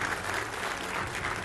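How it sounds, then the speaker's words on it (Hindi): Studio audience applause welcoming a guest on a Hindi TV news debate show, a steady, dense clapping that fills the whole stretch at moderate loudness with no voices over it. "तालियों के साथ उनका स्वागत कीजिए"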